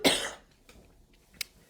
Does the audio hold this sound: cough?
yes